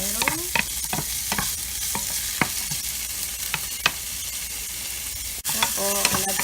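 Garlic, onion and tomato sauté in a pan with a steady, close sizzle, broken by sharp scraping clicks from stirring throughout and a brief dip near the end.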